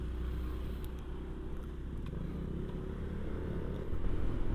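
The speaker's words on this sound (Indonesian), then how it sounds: "Ini mobil mau belok." A car slowing to turn on a road, heard as a continuous low rumble of engine and tyres at moderate distance, fairly faint, swelling slightly louder near the end.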